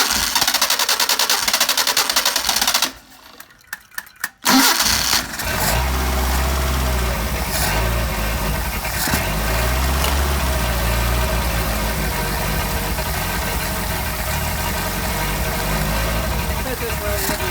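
Car engine fitted with a Solex carburetor, cranking briefly, catching after a short gap, then settling into a loud steady idle with a few blips, while someone talks at times.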